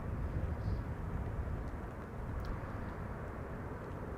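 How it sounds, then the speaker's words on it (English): Airbus A320neo airliner arriving at Amsterdam Schiphol Airport, a steady, broad jet roar held at an even moderate level throughout, heard from a distance with no voices. "This was an A320neo arriving from Geneva"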